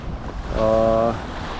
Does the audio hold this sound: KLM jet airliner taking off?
no